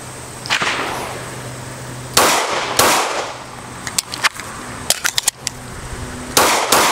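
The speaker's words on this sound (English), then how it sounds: "So we'll go ahead and fire a couple rounds, switch mags, and see how we do." Handgun shots on an outdoor shooting range, several sharp loud reports spaced irregularly with a few quicker cracks and clicks between them, the last shot near the end.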